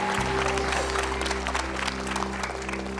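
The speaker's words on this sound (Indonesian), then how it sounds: "tepuk tangan penonton" An audience at a hypnosis show claps continuously, steady applause running the full length over a low background hum.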